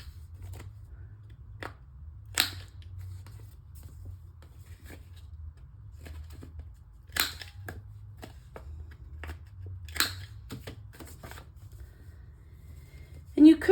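A punch rounds the corners of paper envelopes with sharp, crisp clicks spaced several seconds apart over a quiet low hum.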